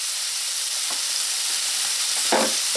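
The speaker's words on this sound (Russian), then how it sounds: "я налила на сковороду немного масла и отправляю туда нарезанную половину большой луковицы. Сейчас я ее обжарю." Chopped half of a large onion fries in a little oil in a pan, a steady close sizzle with a few soft stirring clunks and no talking.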